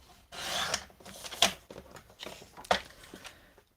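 A scrap of craft material is cut with scissors or a blade, producing a few rough, rasping strokes with sharper snips near the start and middle, close and fairly quiet with no talking.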